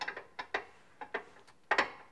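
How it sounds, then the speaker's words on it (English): A 17 mm wrench ratchets a suspension bolt loose on a Nissan 350Z during a rear suspension conversion, with short bursts of metallic clicking in uneven groups, close and fairly clear. "we're gonna go ahead and just take this bolt out"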